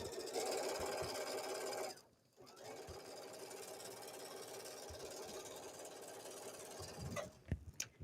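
A sewing machine stitching slowly around a curve on a bathing suit coverup: a steady close mechanical whirring hum, pausing briefly early on, then resuming before ending with a few clicks and taps.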